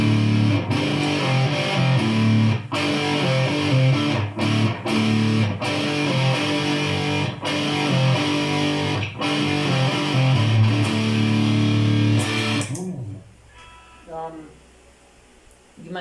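An electric guitar, a Sportscaster, is strummed through a distortion pedal in loud, gritty bursts of chords and palm-muted hits, then cuts out abruptly to near silence with faint buzzing near the end.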